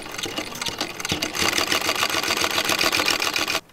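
A sewing machine runs a fast, continuous stitching rattle through a flexible magnetic window screen, loud and close, speeding up briefly before stopping abruptly.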